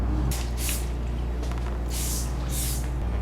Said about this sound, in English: with a simple spray bottle sealer. And it's a vinyl sealer.